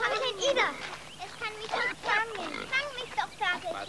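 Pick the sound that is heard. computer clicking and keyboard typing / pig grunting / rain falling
pig grunting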